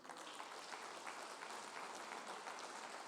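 A church congregation applauds steadily for about three seconds, dense continuous clapping from many hands at moderate distance, with no talking over it.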